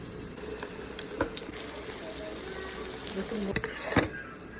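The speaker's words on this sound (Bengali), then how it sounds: "এই টেম্পারেচারে আমি তেলের মধ্যে দিয়ে দিচ্ছি।" Stuffed chicken mughlai paratha sizzling as it is lowered into hot oil in a kadai, a steady bubbling hiss with a few sharper crackles, moderately quiet with no talk.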